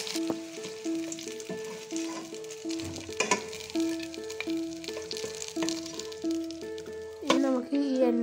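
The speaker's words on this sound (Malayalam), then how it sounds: "ഇതിപ്പോൾ രണ്ട് സൈഡും ഫ്രൈ ആയി വന്നിട്ടുണ്ട്." Food fries in hot oil for manjali biriyani, a soft hissing sizzle running under louder melodic background music throughout.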